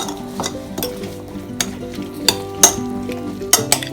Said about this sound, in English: Just mix it nicely.